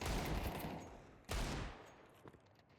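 Gunfire in Counter-Strike 2: two quiet bursts of rapid shots, one at the start and another just over a second later, each fading into a low rumble.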